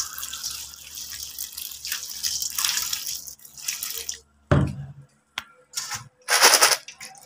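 Water runs over a batch of peso coins being cleaned. A steady, hissy stream gives way to sharp splashes and brief sloshing bursts, close by, with no voices.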